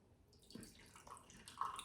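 Beer poured into an empty glass, a faint soft splashing and gurgling stream that starts about midway and grows slightly louder toward the end, heard alone without talk.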